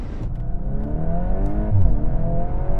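Several hot hatches and compact performance cars, a Civic Type R, M135i, A35, S3 and Golf R, accelerate hard from a drag race start, engines rising in pitch through the gears, loud and close with no talk.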